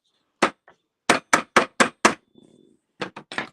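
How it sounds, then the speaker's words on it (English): Nylon hammer striking wire to work-harden it for a squiggle necklace, a run of sharp close taps in two quick bursts with a brief pause between. "you can work harden with this nylon hammer"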